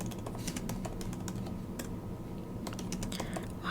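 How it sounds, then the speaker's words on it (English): Steady, close keyboard typing on a computer keyboard, with a fast run of small clicks and occasional heavier key strikes, all in a quiet room and with no one talking. "Why am I typing in all caps?"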